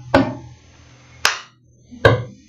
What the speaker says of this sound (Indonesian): bisa kita menggunakan galon, bisa misalnya kita tepuk tangan, dan juga galon lagi misalnya